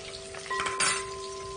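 Bluegill fish frying in hot oil in a wok, a steady close crackling sizzle with a few brighter spattering bursts and a faint constant hum underneath.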